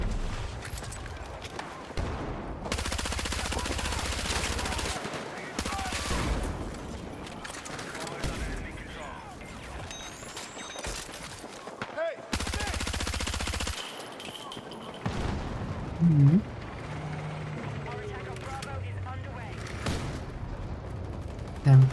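Covering fire in a video game: bursts of automatic gunfire rattle in long stretches with brief gaps, loud and dense, while people talk over the shooting.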